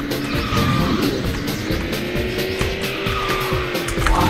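A practice kart racing in the KartRider video game, its engine droning steadily with repeated tire squeals and skids through drifts, loud and continuous throughout.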